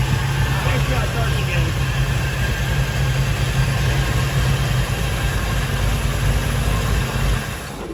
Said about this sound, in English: Let's shut it down and start it again, and then we'll run the idle up.